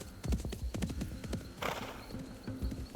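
Horse hooves clip-clop in a steady walking rhythm, fairly faint, with a brief whinny midway and no talk.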